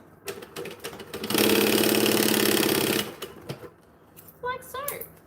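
Sewing machine top stitching a folded fabric pocket: a fast, steady mechanical whirr lasting under two seconds, with softer handling clicks before and after and a voice speaking near the end.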